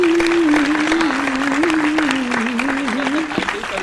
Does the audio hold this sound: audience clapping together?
yes